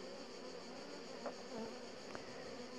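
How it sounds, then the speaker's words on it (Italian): Honeybees buzz steadily at a hive, a continuous close insect drone with a few brief louder passes by individual bees. "Ecco, queste sono altre api."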